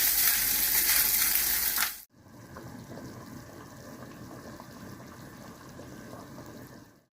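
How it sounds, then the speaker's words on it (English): Lardons fry in a pan for leek and potato soup in a French kitchen: a loud, bright sizzle that drops off abruptly, then gives way to a softer, steady crackle. "So we want the lardons to be crispy."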